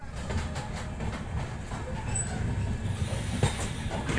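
Rumbling interior noise of a passenger train departing Maksi Junction at night, a continuous low roll with faint clicks and a brief knock, heard steadily from inside the carriage.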